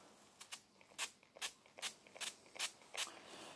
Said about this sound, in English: let me sanitise the scissors, innit, fam?